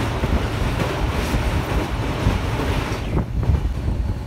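Darjeeling Mail superfast express running between Sealdah and New Jalpaiguri, heard from inside as a steady, loud rumble of wheels and rattling coaches with wind noise, continuous throughout.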